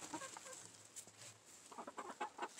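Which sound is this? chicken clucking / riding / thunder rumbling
chicken clucking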